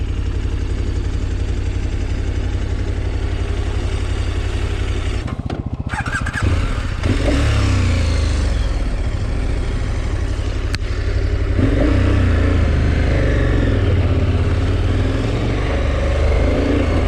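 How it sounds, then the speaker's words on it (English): A Suzuki DRZ 400 dirt bike approaches on a sandy backcountry road, its engine loud and droning near the mic with a sharp rise in rumble and clatter partway through, then continuing at a close, steady roar. "That's David coming, approaching me on his DRZ 400."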